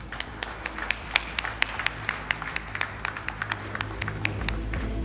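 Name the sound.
audience applause at product launch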